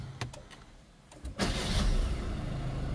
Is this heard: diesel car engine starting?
yes